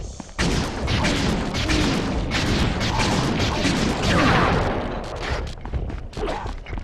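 Gunfire and explosions in the video game Sly 3: Honor Among Thieves ring out in a dense, loud barrage of repeated shots and booms, dropping briefly near the end.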